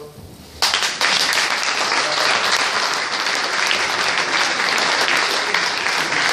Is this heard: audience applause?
yes